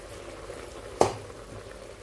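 Salted chicken mixed in a pan for pineapple chicken in coconut milk, a low bubbling sizzle with one sharp utensil clack partway through.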